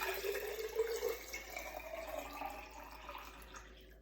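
Water pours from a container into a vase, a faint, steady trickling splash that fills and gently tapers off over about four seconds, with no talking.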